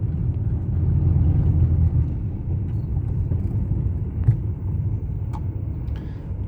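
Road traffic rumbles along a street in Halifax, a continuous low drone of passing cars with a few faint higher clicks and squeaks, no voices.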